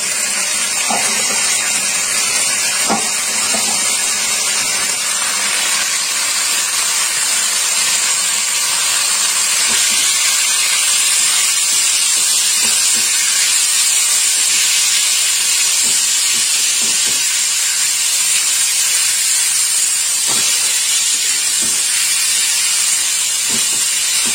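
Banana flower mixed with spices tipped into a pan of lightly fried ginger, giving a steady, loud hiss and sizzle that runs throughout with small clatters and scrapes, and no voices.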